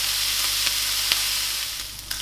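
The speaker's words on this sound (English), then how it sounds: "Start frying that until it gets nice and crispy" Bacon sizzles in a hot frying pan with a steady, loud hiss and a few faint clicks from stirring, close by with no talking.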